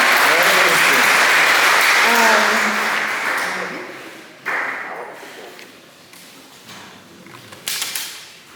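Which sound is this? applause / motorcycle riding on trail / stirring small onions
applause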